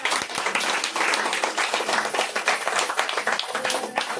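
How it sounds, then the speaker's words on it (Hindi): An audience claps loudly in sustained, dense applause at a Hindi-language gathering on health, the clapping steady and close throughout with no talk over it. "हमारे गुरु माता गीता दीदी के लिए भी एक जोरदार ताली"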